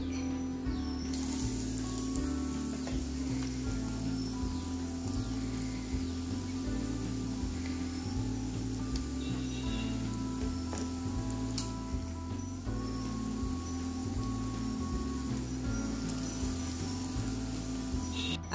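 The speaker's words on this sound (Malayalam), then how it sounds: "അപ്പൊ ഇനി ഫ്രൈ ചെയ്യാം." Bread samosas, dipped in egg and coated in breadcrumbs, frying in hot oil with a steady, dense crackling sizzle that continues evenly throughout with no talking.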